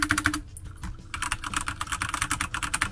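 Keys clack rapidly on a Corsair K65 RGB Rapidfire mechanical keyboard, a close, crisp run of presses and space-bar thumps that pauses briefly before resuming in quick succession.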